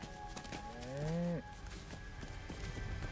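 A cow in the LEGO Fortnite video game lets out one clear, drawn-out moo lasting under half a second, over steady in-game ambience and faint background tones.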